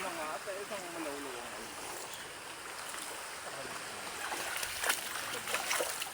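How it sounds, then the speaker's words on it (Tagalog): A strong river current rushes in a steady broadband roar as people wade across it, with splashing and louder surges near the end and some talking in the background. "Sabing lakas ng agos ngayon."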